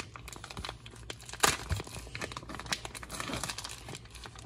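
A package of vegan burger meat being opened, close crinkling and tearing of plastic wrap with a sharp rip partway through, in a quiet kitchen.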